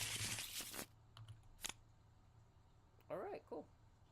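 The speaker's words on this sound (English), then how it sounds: "Violently shuffle." A deck of playing cards is shuffled quickly and forcefully during a card game, a brief burst of riffling close by, followed by quiet and short voices talking.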